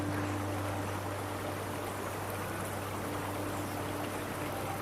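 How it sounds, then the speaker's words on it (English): River flowing steadily, a constant broadband rushing and gurgling wash of water at moderate volume, uniform throughout with no voices, alongside a low steady hum. "The river's right there, but I won't make you drink from it."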